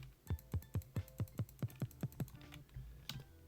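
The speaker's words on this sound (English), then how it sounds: "a note block with a concrete block underneath it makes a bass sound." Minecraft note block resting on a concrete block, producing a bass tone: about ten regular, punchy low plucks in a steady rhythm, then a short quiet tail with a faint extra note.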